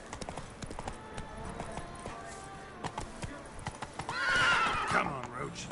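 Roach, the horse in The Witcher 3, clip-clops at a gallop throughout, then lets out a loud, close whinny near the end, with someone talking over the hoofbeats.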